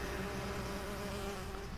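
Cartoon bees in My Little Pony: Friendship Is Magic hum in a continuous, steady buzz with a sustained tonal drone, moderately close and without any talking.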